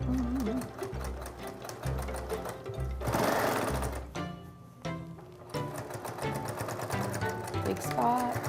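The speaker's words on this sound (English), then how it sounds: "Sew along and remove the pins as you go." A sewing machine stitches fabric for a witch hat in rapid bursts of mechanical chatter, pausing briefly midway with a rustle of handling before the needle runs again, close and clear.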